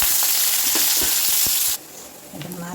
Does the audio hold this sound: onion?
yes